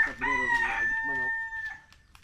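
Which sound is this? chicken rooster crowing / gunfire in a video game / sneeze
chicken rooster crowing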